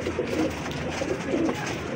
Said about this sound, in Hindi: ये मियाँ साहब वाले कबूतर हैं मेरे भाई